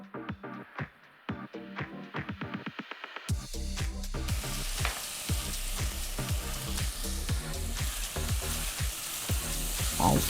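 Seasonal vegetables, red chilli, turmeric, coriander powder and salt go into a pressure cooker for millet khichdi, with sharp stirring scrapes first, then the oil bursts into loud, continuous frying sizzle under repeated stirring strokes.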